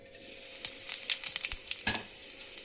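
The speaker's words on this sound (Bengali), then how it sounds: "জিরে ফোড়ন দেবো।" Cumin seeds crackle and spit in hot oil for a tempering before onion and garlic go in, a busy close sizzle with sharp pops and a few spatula scrapes.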